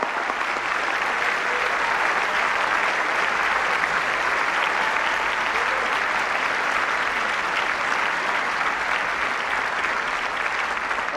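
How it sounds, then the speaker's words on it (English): A large audience at a formal White House correspondents' dinner claps steadily in a dense, loud wash. The applause holds evenly without a break, and no one speaks over it. "Please give them a big round of applause."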